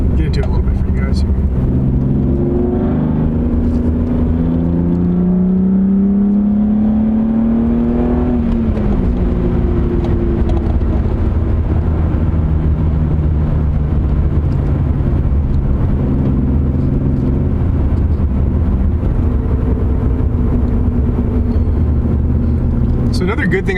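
A BMW E36 M3 with polyurethane bushings, driven on the street, accelerates hard, its engine note climbing steadily in pitch as it revs, loud and close over constant road and cabin noise.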